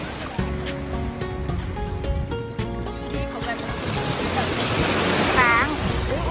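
Sea waves wash steadily over a sandbar beach in Krabi at high tide, a continuous surf hiss and rush that swells louder toward the end, with a few clicks and faint background sounds.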